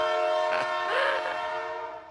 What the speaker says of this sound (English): I'm gonna hit that horn one more again for them